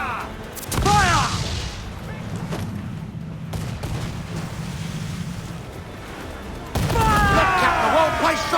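Ship cannons fire during a naval battle in Assassin's Creed 4, with a loud boom, a rumbling roar over wind and crashing waves, and a second burst of blasts near the end.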